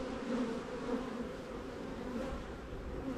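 Honey bees buzzing around an open hive during hive work, a dense steady drone of many wings close by, continuous and even, no talking.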